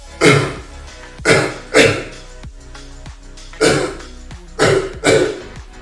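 A run of loud, harsh coughs close to the listener, coming in bursts of two with short pauses between.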